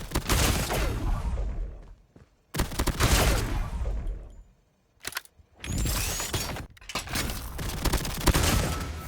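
Rapid bursts of gunfire from the Lachmann mythic weapon in a video game, loud and close, arriving in several long volleys separated by brief pauses.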